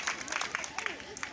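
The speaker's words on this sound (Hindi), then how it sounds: "मैं चाहूंगा जोरदार ताली बजाएंगे एक बार।" Scattered clapping from an audience at a free education institute event, a few distinct claps mixed with a speaking voice, fairly quiet and sparse.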